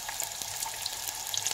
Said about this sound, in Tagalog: Lagay na natin yung ating bawang.